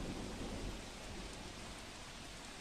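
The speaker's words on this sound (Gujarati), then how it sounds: "રાજુલા શહેર અને કોસ્ટલ વિસ્તાર છે ત્યાં ભારે પવન સાથે વરસાદ" Heavy rain with strong wind over a coastal town in Gujarat, a steady dense roar of falling water and gusts with low rumbling thunder, continuous and fairly distant, no voices.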